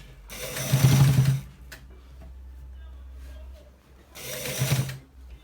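A sewing machine stitches a pair neck design in two short bursts, about a second each, with a quiet mechanical stretch between and a soft voice briefly in the background.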